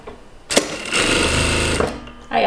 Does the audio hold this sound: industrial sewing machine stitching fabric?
yes